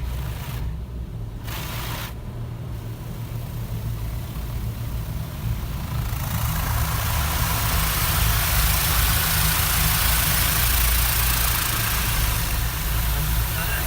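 Touchless automatic car wash running over a car, a steady heavy rush of water spray and machinery hum that swells louder partway through, heard from inside the vehicle.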